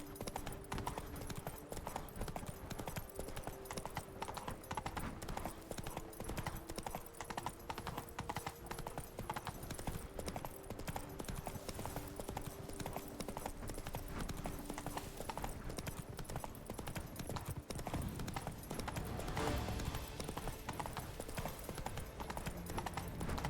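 Roach, a horse in The Witcher 3, clip-clopping steadily with rapid, regular hoofbeats throughout, moderately loud, with little talk over it.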